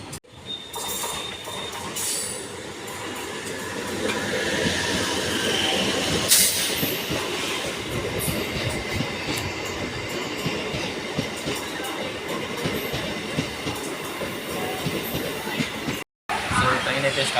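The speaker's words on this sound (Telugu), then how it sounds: "సో ట్రైన్ అయితే స్టార్ట్ అవుతుంది." A MEMU express train pulling away from Tenali station, a steady rumbling roll with rattling carriages and occasional wheel squeal, heard from onboard while a voice speaks over it.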